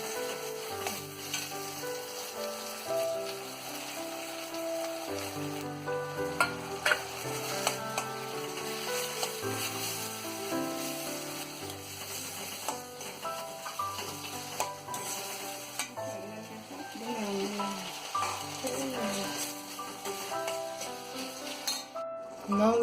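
Potato pieces fry and get stirred in a pan with asafoetida, giving a steady close sizzle broken by scraping and clinking of a spoon against the metal through a long stretch.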